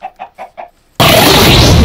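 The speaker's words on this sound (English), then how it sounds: "Nope, chicken." Minecraft chicken clucking in a video game: four short, evenly spaced clucks, loud and close, followed by a sudden burst of dense, loud noise.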